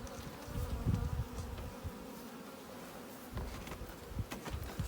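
Honeybees buzz around hive boxes outdoors in a dense, continuous droning swarm, individual bees swelling louder as they pass close by, with no talk.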